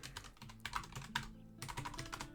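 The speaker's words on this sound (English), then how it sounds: "Apologies for the tippy-tappy typing" Quick bursts of tapping on a computer keyboard, clustered keystrokes separated by brief pauses, close and quiet with no one speaking.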